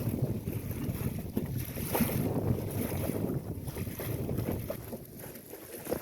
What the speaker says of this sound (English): there's a nice steady wind out here, which helps a lot.